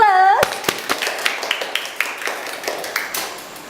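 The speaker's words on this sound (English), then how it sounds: "Give applause" Several classmates clap sparsely in a classroom after a student's talk, a handful of distinct, irregular hand claps following a brief voice at the start.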